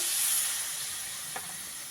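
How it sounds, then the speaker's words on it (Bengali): Water from rinsing spices poured into spices frying for egg curry, a sustained bright hiss and sizzle that slowly eases, close and alone. "এবার এর মধ্যে আমি মশলা ধোয়া জলটা অল্প দিয়ে দেবো"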